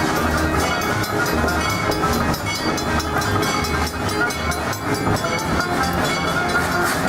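The Miami Valley Railroad train at Kings Island rolls along the track with a loud, continuous rumble and rhythmic wheel clatter, close by and steady throughout.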